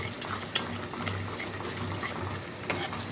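A spoon stirs mango pachadi in a pan, a Thanjavur-style dish with turmeric, making soft scraping, stirring sounds over a low steady sizzle.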